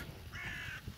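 Crow cawing in a forest near a village, a single harsh, drawn-out caw, faint and somewhat distant over low background noise.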